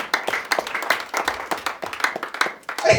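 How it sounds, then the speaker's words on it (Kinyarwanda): Church congregation clapping hands during worship, a fast, steady rhythm of sharp claps from many people close by, repeating evenly throughout. "Dukomere Imana yacu amashyi menshi cyane."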